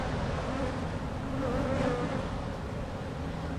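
Honey bees buzzing around an open hive, a dense, steady hum from many bees close by, continuous and fairly quiet with no talk.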